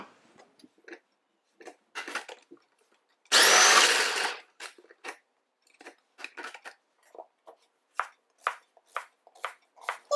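A food processor shreds zucchini in a single loud, close whirring burst of about one second, surrounded by scattered short clicks and knocks, with no talking.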